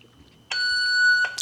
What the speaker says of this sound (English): Now this one should beep,